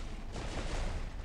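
Rapid automatic gunfire from the Scorpion weapon in a first-person shooter game, a dense, steady burst of shots that fills the whole moment without any talking over it.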